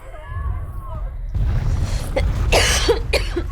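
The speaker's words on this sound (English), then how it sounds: "Sorry for coughing" Several sharp, rough coughs burst out in quick succession, loud and close, over a low background murmur.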